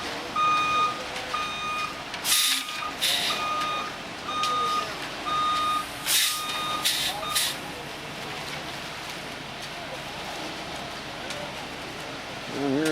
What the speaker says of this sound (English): So he moves, and here we got another truck coming in.